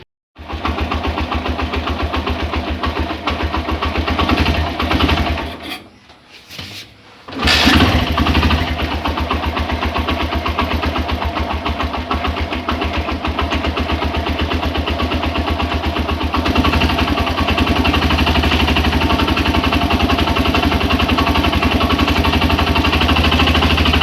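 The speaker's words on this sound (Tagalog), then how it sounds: "Maingay na daw makina. Ito yung nandito sa video. Ayan. Ganyan tunog niya." A Suzuki GS125 motorcycle engine runs loudly and roughly at close range, cutting out briefly before restarting and idling with a steady, rattling drone.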